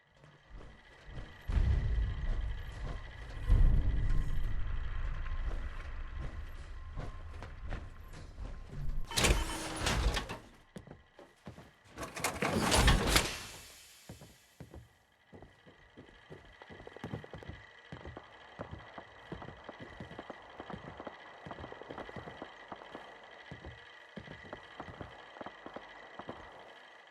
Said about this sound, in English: What you're hearing there are radio signals from all the nearby ASAMs.